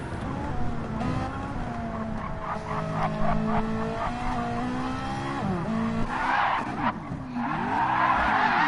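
Race car engines in a sim racing game drone and whine steadily with shifting pitch, joined by skidding and tire squeal toward the end, loud and continuous with a few words spoken faintly.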